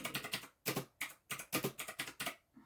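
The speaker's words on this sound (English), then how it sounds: "I got a clicky keyboard." Someone types on a clicky computer keyboard, producing several quick bursts of sharp, close keystroke clatter with short pauses between them, with no voices.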